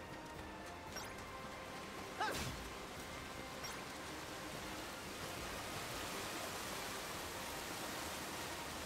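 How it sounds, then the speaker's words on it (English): A waterfall in the Kingdom Hearts 3 video game rushes as a steady, even, broadband roar throughout, with a brief thud or crash midway and no voices. "Can't run up the waterfall."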